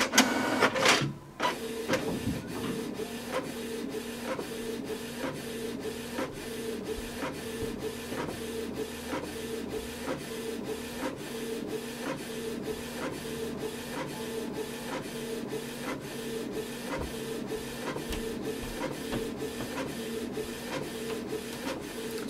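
A Canon TS3300 inkjet printer runs close by, its print head clicking and shuttling in a steady regular rhythm after a brief clunk as the page feeds.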